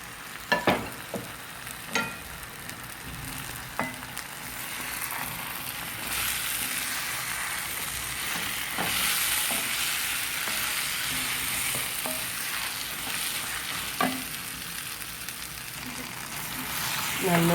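Fried quail gets stirred into a masala in a pan for a Kerala-style quail roast, steady sizzling broken by scraping spoon strokes and clacks against the pan, with occasional speech alongside.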